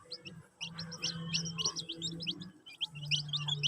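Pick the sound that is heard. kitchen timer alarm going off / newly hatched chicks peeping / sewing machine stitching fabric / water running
newly hatched chicks peeping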